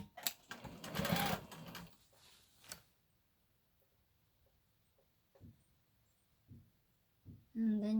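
A sewing machine joins a formal prom dress bodice to its skirt in a quick burst of fast, rattling stitching, followed by a few soft clicks and brief low speech near the end.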